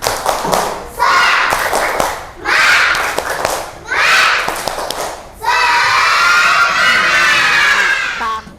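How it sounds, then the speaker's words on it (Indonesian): Classroom children doing a rhythmic spirit clap chant, four short bursts of shouted chanting with claps followed by a longer sustained group shout, loud and close. "Tepuk semangat lagi, tepuk semangat"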